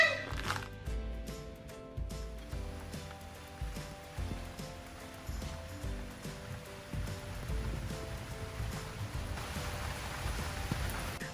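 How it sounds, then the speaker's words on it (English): Rain falls on a lockdown weekend in the Bahamas, a faint, steady patter of drops with occasional sharper taps and soft background noises, heard alone without speech. "So I just watched the rain come in."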